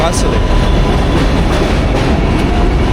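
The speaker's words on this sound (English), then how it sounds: "Hear the sound of the train constantly" Loud, continuous rumble and rattle of an elevated train running overhead in New York, steady throughout with faint clacking, while street noise and distant voices mix underneath.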